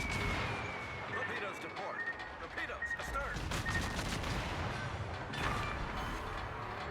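Ship guns in a naval video game, firing on a submarine close alongside, crackle as a rapid, sustained fusillade of shots over a dense, steady battle din.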